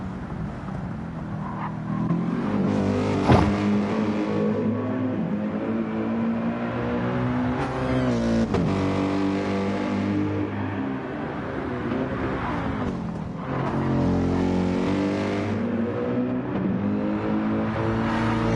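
Gr.3 race cars lapping Bathurst in a racing video game, engines roaring loud and continuous as they brake, downshift and accelerate hard out of corners, with pitch rising and falling across repeated gear changes.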